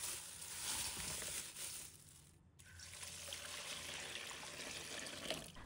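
Fresh prawns being rinsed under running water in a kitchen, a steady close splash and trickle with a short break midway, otherwise continuous and without talk.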